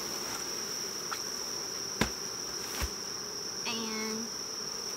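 Honey bees hum steadily around a honey super during a beekeeping harvest, a faint continuous buzz with a couple of sharp knocks and a brief rising whine late on.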